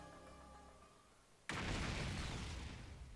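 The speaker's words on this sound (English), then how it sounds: "An explosion suddenly echoed across the room." A sudden booming explosion in The Hundred Line: Last Defense Academy bursts in after a quiet musical passage, then rumbles on as a loud, sustained roar.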